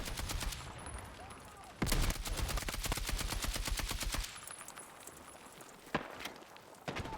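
Rapid automatic gunfire in the shooter Battlefield 6 comes in long, rhythmic bursts of close, punchy shots, with brief pauses and a few single cracks near the end.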